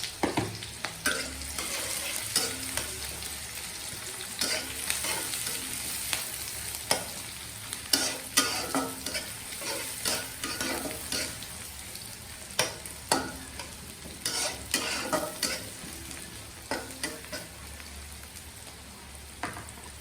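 Onion frying in hot oil for an egg and brinjal curry: a close, crackling sizzle broken by repeated sharp pops and spatula scrapes, moderately loud and with no talk.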